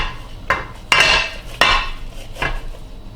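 Meatloaf tipped out of a loaf pan into a pan, several sharp metallic clanks and scrapes of the pans knocking together at uneven intervals, loud and close with no talking.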